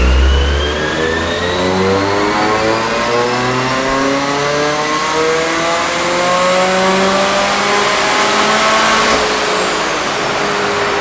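Supercharged Mazda Miata on a dyno, engine revving in one long, loud sweep that climbs steadily in pitch with a rising supercharger whine, then eases off near the end.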